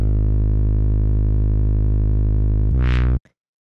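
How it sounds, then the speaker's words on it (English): A deep, buzzy analog synth bass holds a sustained note, shifts to another briefly with a bright swell, then cuts off abruptly. "So the next thing that I have here is this bass,"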